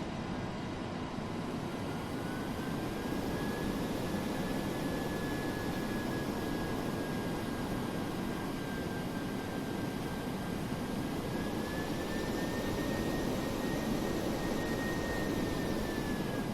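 A McDonnell Douglas DC-8-73F freighter jet in Flight Simulator X taxis with a steady, dense engine roar and a faint high turbine whine that drifts slightly in pitch, continuous and unbroken throughout.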